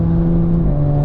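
A Jaguar F-Type engine hums steadily in a brief burst, a loud, low, droning tone from inside the car with no talking.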